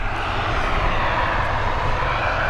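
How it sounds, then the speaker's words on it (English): Aer Lingus ATR turboprop airliner engines at Dublin Airport produce a loud, steady droning roar without break. "We're back-to-back ATRs here."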